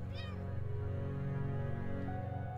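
Cat meowing in the video game Impostor Factory, a short rising mew near the start over a steady droning game soundtrack.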